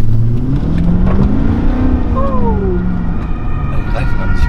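A BMW E39 540 pulls away under acceleration. Its engine drone rises in pitch, loud and close, while a higher whine slides upward partway through.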